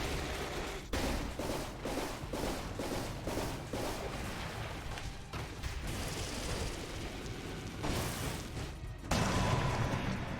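Bombs exploding in the roguelike Dead Cells, heard as a rapid series of loud blasts and bursts, with a bigger boom near the end.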